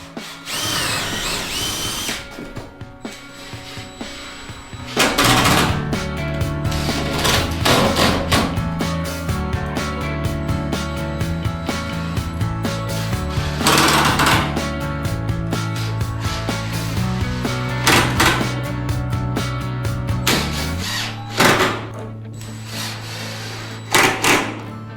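Power drill countersinking screw holes in wooden flooring boards for a mobile bar, repeated close bursts of whirring drilling with short pauses and handling knocks between them.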